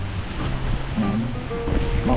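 Waves wash in and out at a remote seashore on a drizzly, rainy day. The surf is a steady, fairly soft rush, with faint wind noise mixed in.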